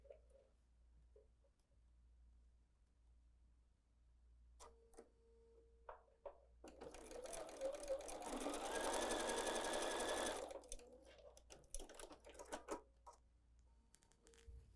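A sewing machine stitches fabric for a small table runner, starting with a few short bursts and then running steadily for several seconds before slowing into brief stops and starts, close and moderately loud in a quiet room.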